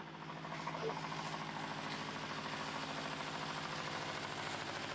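Cable car machinery runs in a cable room, a close, steady rhythmic mechanical thrumming and low motor drone that continues evenly throughout with no clear talking.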